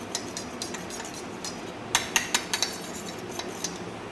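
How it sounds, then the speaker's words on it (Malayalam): A spoon stirs a neem face pack mixed with honey in a bowl, giving scattered light scrapes and a quick run of sharper clinks in the middle, close and quiet, with no speech. "എന്നിട്ട് നമുക്ക് നല്ലതായിട്ടൊന്ന് സ്റ്റിർ ചെയ്ത് കൊടുക്കാം"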